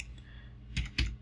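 Two crisp keystrokes on a computer keyboard, close and distinct, set against a faint low background hum.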